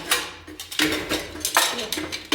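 Scrubbing a burnt cooking pot at home: close, repeated rasping strokes of metal scouring, coming in short bursts with brief pauses between them.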